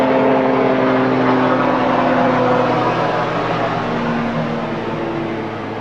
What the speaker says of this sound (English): there goes that helicopter